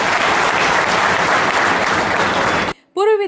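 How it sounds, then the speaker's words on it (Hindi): Party workers clapping to welcome a former legislator at a BJP gathering: loud, dense applause that stops abruptly near the end, after which a voice briefly speaks. "तालियां बजाकर जरा दिलीप भाई को आप सब बोलें।"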